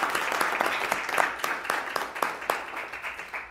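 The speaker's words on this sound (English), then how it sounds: "let's give her a round of applause as well" Applause fills a school board meeting room, a continuous patter of many hands clapping with some sharper individual claps standing out, steady and fairly loud throughout.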